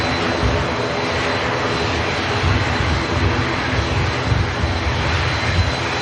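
An EasyJet airliner touching down after a flight from Alicante, a steady jet roar with low rumbling swells that stays constant and fairly close, with no speech.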